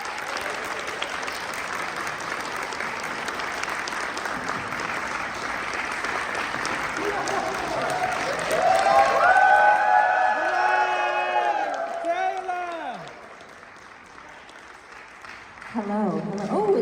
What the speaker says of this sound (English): Welcome them to the stage, everyone, with a big round of applause.